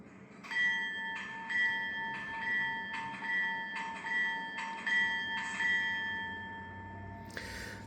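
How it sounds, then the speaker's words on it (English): Toy train bell ringing in a steady repeating pattern, about seven evenly spaced dings over a low rolling rumble, then a short horn blast at the end; fairly close, no talking. "Also got options to sound the horn and the bell."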